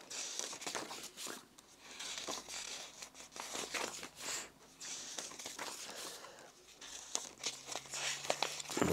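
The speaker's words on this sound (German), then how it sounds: "Blättern wir hier mal ein bisschen durch." Pages of a 44-page mediabook booklet for the film The Childe are flipped by hand, soft papery rustles and crinkles coming in quick irregular bursts, close and quiet.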